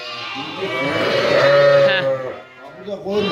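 Kangal Akkaraman sheep bleat loudly and close by in a long, wavering cry, followed by shorter bleats; a voice may be faintly mixed in.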